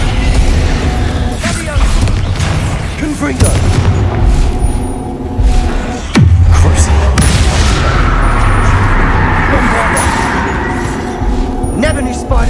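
Blasting-curse explosions from the Hogwarts Legacy video game, loud booming blasts with a sharp crack near the middle, layered over continuous music and combat noise, with talking throughout.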